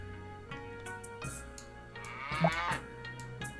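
Farm animals bleating and lowing in the Journeyman Project 3 video game, a few distinct calls with a louder cry near the middle, over steady game ambience and music.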